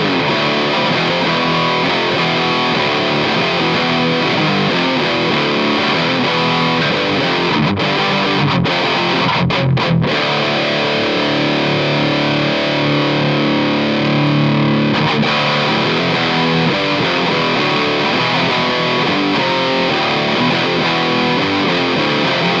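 Overdriven electric guitar through an Ibanez TS9 or Behringer TO800 overdrive pedal with the tone knob maxed, played as a continuous run of distorted chords and riffs with a few brief breaks, loud and bright throughout.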